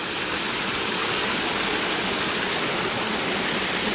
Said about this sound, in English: We're at the waterfall again.